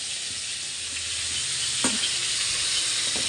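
Tomato, ginger and green chilli masala sautéing in a pan, a dense continuous sizzle close up with a single short scrape of stirring partway through.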